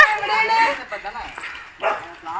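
A pack of four or five dogs bark and yip while fighting in a group, somewhere in Kerala, in short bursts, with people talking over the scuffle.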